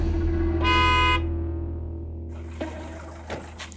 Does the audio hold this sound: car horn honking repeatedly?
yes